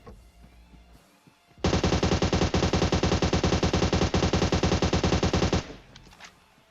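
Sustained automatic gunfire in the PUBG Mobile video game, a loud rapid burst of evenly spaced shots lasting about four seconds, with quieter game ambience before and after and no talking.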